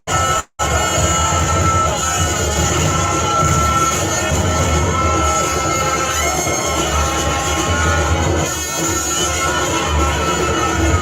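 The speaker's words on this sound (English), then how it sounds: "The APC candidate received a jubilant welcome from a massive crowd of people" A massive crowd cheers and shouts in jubilant welcome as the APC governorship candidate arrives in Asuen land in Edo, a loud, dense, continuous roar with yelling voices throughout.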